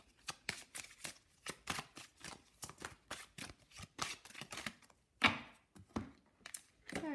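Witch's Wisdom Oracle cards being shuffled by hand, a quick run of crisp, close riffling flicks in an uneven rhythm with a brief pause near the end.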